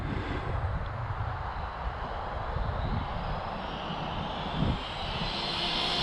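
A WB12PRO RC car with a 28mm motor and a high C rated battery on a 31 tooth pinion runs at full throttle, a loud continuous whining roar that rises in pitch as it speeds away, with no talk.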